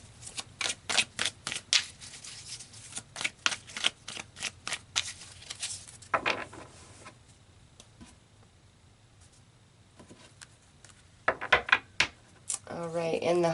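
Tarot cards shuffled by hand in rapid bursts of crisp riffling and tapping, close and fairly quiet, with pauses between rounds.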